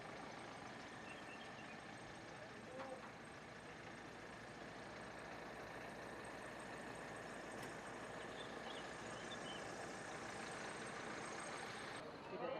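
Kalisari bus engine idling at a pilgrimage stop, a faint continuous low drone under people talking and crowd murmur, steady for the whole stretch.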